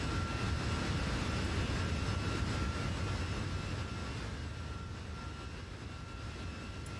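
A Fenix Airbus A320 in a flight simulator rolls down the runway on takeoff, a steady, loud engine roar that holds constant and eases only slightly toward the end, with no voices.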